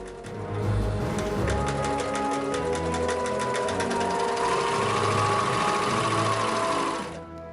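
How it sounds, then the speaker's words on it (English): A serger stitching purple fabric hat parts together, a fast close mechanical whir running steadily for about seven seconds before stopping. "we got it up and running and serged the hat parts together"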